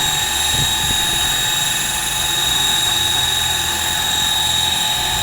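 A size 600 RC helicopter engine runs at high, steady revs with a loud, sustained whine and layered harmonic buzz that holds constant throughout, with no voices.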